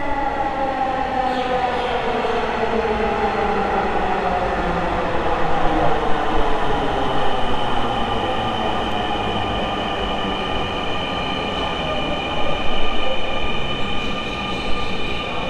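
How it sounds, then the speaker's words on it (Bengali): A Dhaka metro train rolls into the station with a loud, steady rumble and a high whining, squealing tone that bends in pitch as it slows, with no talking. "ট্রেন কিন্তু প্রবেশ করছেন স্টেশনে"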